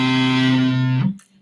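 An electric guitar played through an amp with distortion on rings out in a buzzy, sustained chord that cuts off abruptly after about a second, followed by a faint brief squeak; loud and close, no talking.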